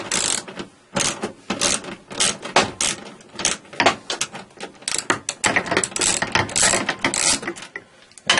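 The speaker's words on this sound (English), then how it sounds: "I got a socket, a hex socket standing by to take this on." Rapid bursts of clicking from a hand ratchet turning a hex socket to loosen metric bolts on a Kiwi-106 synthesizer, loud and close, coming in quick uneven strokes with brief pauses between them and no voices.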